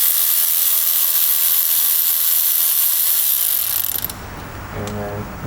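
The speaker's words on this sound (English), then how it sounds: "I just got a 10mm socket here." A ratchet with a 10mm socket loosens the ignition coil bolts on a misfiring Chevrolet Trailblazer, giving a loud, continuous close-up clicking whir that stops abruptly near the end, followed by someone speaking.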